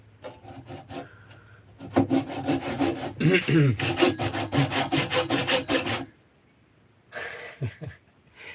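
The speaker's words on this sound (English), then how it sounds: "usually what I do too is I get it started and then I bring it to the bandsaw and just finish the cut" A hand saw starts a cut in wood with quick rhythmic back-and-forth rasping strokes, close and loud for several seconds, then a pause and a short final burst of strokes.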